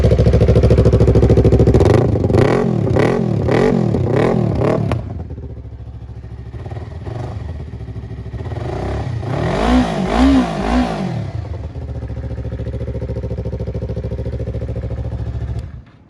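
A 2019 Yamaha R3 motorcycle, with a plug fitted to keep it from being too loud, fires up and revs hard in rising and falling bursts, then settles into a steady, close idle.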